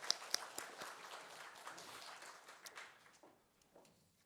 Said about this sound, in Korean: 박수로 축복하겠습니다.